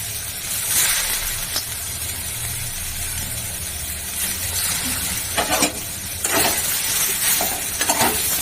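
Boiled soybeans go into hot oil in a pan for a vegetarian eggplant, cauliflower and bean curry, giving a steady close sizzle with stirring scrapes and a few brief louder bursts of spattering.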